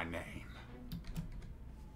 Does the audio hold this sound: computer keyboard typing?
yes